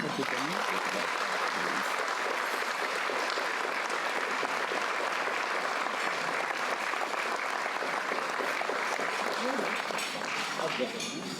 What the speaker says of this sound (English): let's give a big round of applause to past President Ray J. Koenig III.